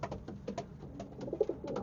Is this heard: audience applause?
no